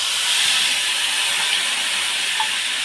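Ground spice masala paste for matar paneer hitting hot oil, producing a loud, even, hissing sizzle that holds steady throughout with no talking.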